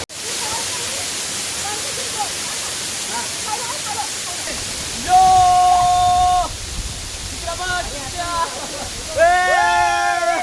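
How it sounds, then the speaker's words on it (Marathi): A waterfall on the Bhimashankar trek gives a steady, loud rushing roar throughout, with people talking over the constant water noise. "आम्ही एक धबधब्यावर आलोय"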